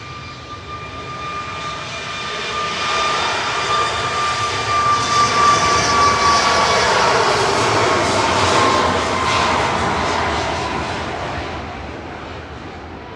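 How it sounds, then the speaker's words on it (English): A SunExpress Boeing 737 Max 8 jet departs Manchester Airport bound for Antalya, its engines roaring in a broad sustained rush with a steady whine that swells toward the middle and slowly fades as it climbs away. "Sun Express departing to Antalya TCSOI"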